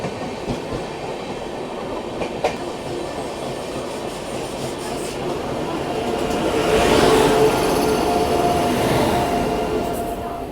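The Una Jan Shatabdi express pulls into Ambala Cantt station right alongside a moving Shatabdi train, giving a loud steady rumble of wheels and rail clatter that swells midway, with a faint metallic squeal and no talking.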